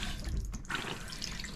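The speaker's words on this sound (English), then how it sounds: "I'll fill that up, do a couple flushes." Water runs steadily into an RV toilet during flushes, a continuous close rushing and splashing stream that fills the whole short stretch.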